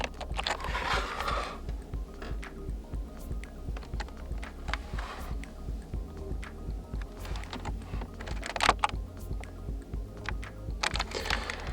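Keys are pressed on the keyboard of a Microsoft Surface Pro X, giving scattered soft clicks and taps, close by and fairly quiet, arriving in short irregular bursts.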